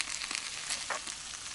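Potatoes frying in a skillet over a campfire in the forest, a constant soft crackling sizzle with faint scraping from stirring, quiet and close with no voices.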